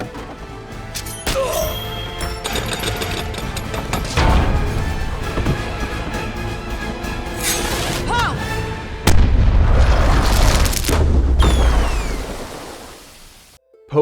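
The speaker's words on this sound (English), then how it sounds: "A cannon is fired" A cannon fires in an animated kung fu film battle on ships, with heavy booming blasts and rumbling impacts among crashing effects, music and dialogue, loud and close.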